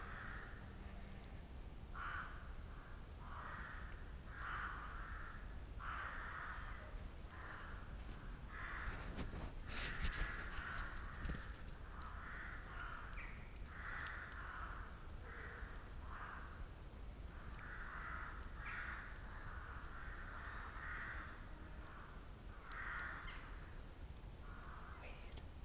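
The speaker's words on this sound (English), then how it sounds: "You can hear the crows, which is kind of creepy." Crows caw repeatedly in woodland near a campfire shelter at night, a steady series of harsh calls spread across the whole stretch, with a brief rustling burst in the middle.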